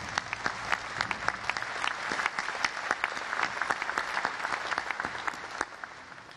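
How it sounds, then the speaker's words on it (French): Audience at a ceremony honouring the Indomitable Lions, Cameroon's national football team, giving a sustained round of applause, many hands clapping steadily at moderate distance, fairly quiet overall. "je vous prie de faire une salve d'applaudissements et d'ovations en hommage aux valeureux Lions indomptables ici présents ou représentés"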